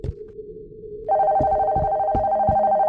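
Telephone ringing in a horror video game set in an abandoned house: after a brief low rumble, a loud sustained electronic ring starts and holds steady, with a few dull thuds underneath.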